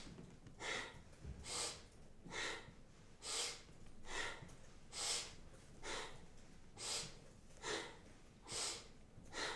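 Rhythmic breathing in and out during a yoga spinal series exercise, about ten soft, airy breaths evenly paced, close and quiet with no talking.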